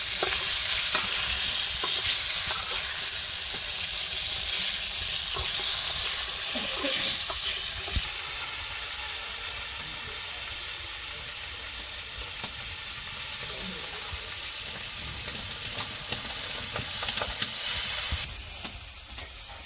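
Pointed gourd fries in hot oil in a home kitchen, giving a loud, continuous sizzle close by, with frequent scraping and clattering of a spatula as the pieces are stirred. A brief faint voice sounds near the end.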